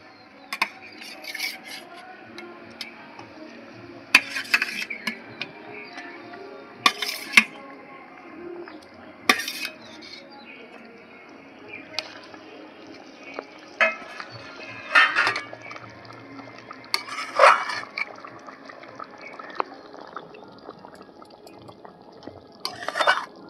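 Pieces of fried rohu fish go into bubbling gravy in a pan, with sharp clinks of a utensil against the metal pan at irregular intervals and soft sizzling and bubbling underneath.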